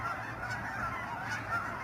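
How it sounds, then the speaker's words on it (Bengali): A flock of Canada geese on a Texas lake gives a short run of rhythmic nasal honks, several calls in quick succession, moderately close and clear, no voices. "এদের বেশিরভাগই কানাডিয়ান গুস।"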